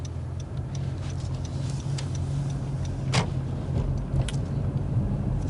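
A car's engine hums steadily from inside the cabin as it pulls away from a stop sign during a driving test, with a rhythmic ticking of the turn signal and a few faint clicks.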